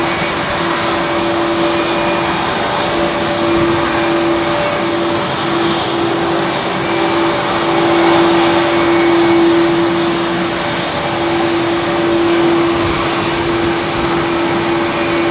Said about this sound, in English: I think there's CF6s running on that 330.